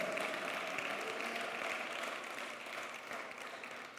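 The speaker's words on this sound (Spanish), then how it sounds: "Dale un aplauso al Señor" Church congregation applauding during a Spanish-language sermon, a steady dense wash of clapping that holds evenly for the full stretch and eases slightly toward the end.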